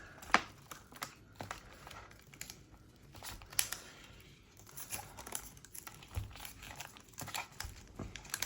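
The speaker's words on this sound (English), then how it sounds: "But then you can pull up that clear outside" Clear plastic sticker backing being peeled from a planner page, heard as soft irregular crinkles and ticks up close, quiet and intermittent throughout.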